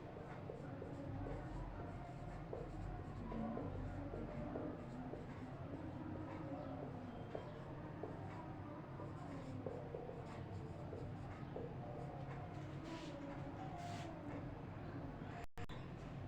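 A pen scratches steadily on paper while a math exercise is worked out, making a continuous rustling scrawl with small bursts of strokes over a constant low background hum.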